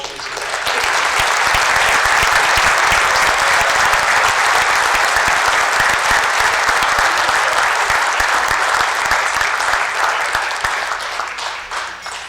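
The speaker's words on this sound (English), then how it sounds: "we have one more round of applause for all" A large audience applauds steadily and loudly for several seconds at a high school Hall of Fame induction ceremony, the clapping tapering slightly toward the end.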